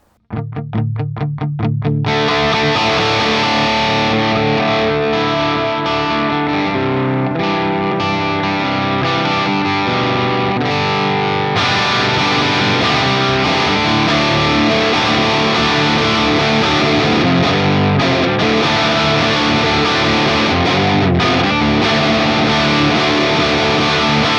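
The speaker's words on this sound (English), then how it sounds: "it responds so well to picking dynamics" Heavily distorted electric guitar through an ML Sound Lab Amped Dual high-gain amp plugin, playing chugging riffs and sustained chords, loud and continuous without any talking.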